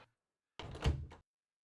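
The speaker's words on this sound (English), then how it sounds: "Can we open the door?" A door opening in the video game Eternal Darkness, a single heavy wooden creak and thunk lasting about half a second, clean and close against silence.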